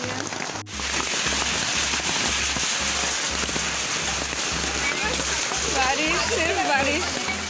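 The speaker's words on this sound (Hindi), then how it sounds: "बहुत ही ज़्यादा बारिश हो रही है।" Heavy rain falls at a college during a Saraswati Puja gathering, making a loud, dense, continuous patter and splashing, while voices talk over it and low rhythmic thumps sound in the background.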